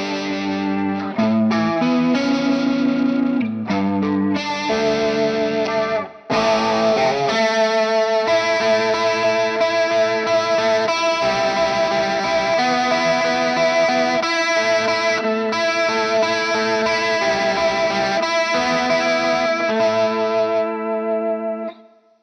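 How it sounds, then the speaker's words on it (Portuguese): Distorted electric guitar through a Collateral FX Demoiselle pedal with slow, deep vibrato, playing sustained chords and notes that wobble in pitch, loud and continuous with a brief break near six seconds. "Vamos trabalhar com um vibrato no som distorcido"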